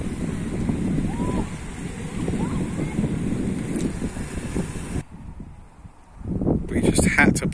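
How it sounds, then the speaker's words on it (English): Strong wind buffets the microphone beside the sea on the English coast, with people talking underneath; the gusts drop briefly near the end before roaring back. "They probably can't hear us. It's so windy."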